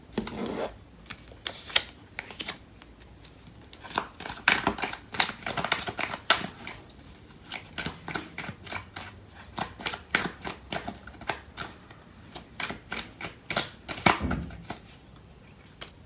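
Tarot cards are shuffled and drawn with crisp, irregular riffles, flicks and slaps, close up and with no voice over them.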